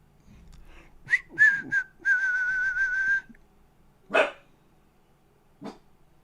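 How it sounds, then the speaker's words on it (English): A sleeping dog lets out a few muffled, dreamy barks and whimpering grumbles, including a drawn-out whine, in short bursts separated by silence in a quiet room. "He got a little barky going, Neo."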